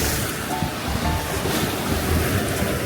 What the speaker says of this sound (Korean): 센터라는 진짜 파도가 소리가 너무 좋다